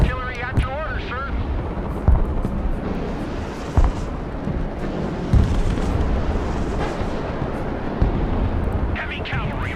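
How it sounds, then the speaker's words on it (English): Rocket artillery in the war game Broken Arrow fires amid a continuous loud rumble of battle, with whooshing launches and occasional sharp bursts, while voices talk over the action. "Rocket artillery at your order, sir."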